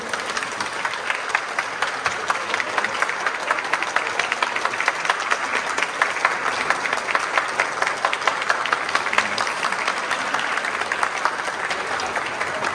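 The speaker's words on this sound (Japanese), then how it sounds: "皆さん拍手を持ってお迎えくださいませ。" A large crowd claps continuously and evenly to welcome a guest at a street piano performance, a loud, sustained round of applause with no pause throughout.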